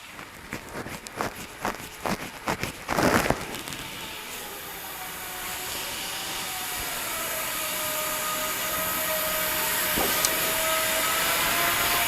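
An 880-S spin rinse dryer runs its drying cycle, starting after a run of knocks and thumps, then spinning up into a steady whirring drone whose pitch slowly rises and whose volume grows and then holds.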